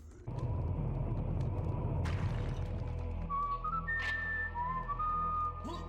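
A whistled Indiana Jones tune from the video game Limbo of the Lost, a few clear melodic notes over a low rumbling background with a sharp crack partway through.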